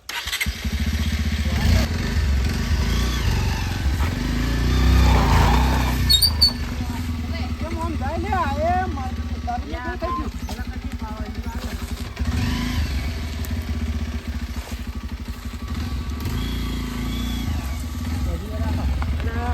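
A motorbike engine runs steadily throughout at close range, a low continuous drone with a louder stretch early on, while voices talk over it.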